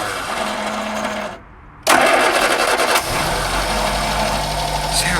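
The engine of a 1964 Vauxhall HA Viva, run for the first time in 19 years, cranks, briefly goes quiet, then catches and settles into a steady, close idle.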